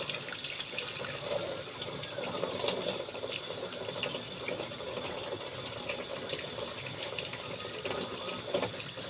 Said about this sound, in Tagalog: Ayan guys, hugasan natin. Hugasan maayos. Lalo na sa ugat ng tawa-tawa.